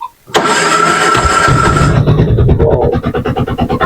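Auto rickshaw in Kerala starting up: a brief cranking burst catches into a loud, close engine roar that then settles into a pulsing, rhythmic idle putter.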